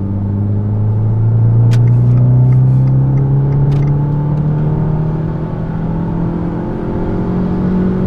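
A car climbs a mountain road in third gear, its engine a loud, steady close-up drone whose pitch rises slowly as it accelerates, with road rumble underneath.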